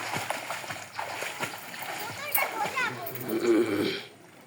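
Someone dives into water outdoors, and a splash bursts out near the end amid a lively mix of nearby voices, including children talking and calling.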